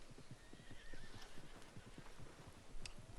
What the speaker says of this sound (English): The one that you just saw right now, that is the basic horse that you get in the beginning of the game.